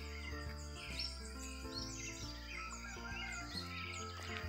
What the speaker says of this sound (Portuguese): e aprecie a beleza do canto dos sabiás e outras espécies que temos aqui